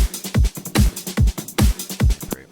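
A looped drum sample plays together with a separate, clipped standalone kick drum. Punchy, distorted low thumps land in a steady rhythm among crisp percussion hits, with no talking.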